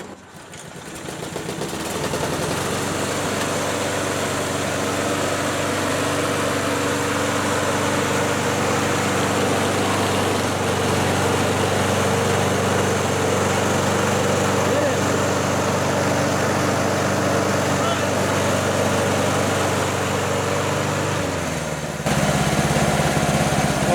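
A homemade budget riding lawn mower's engine starts up and settles into a steady, loud idle close by, holding an even drone with a shift in tone near the end.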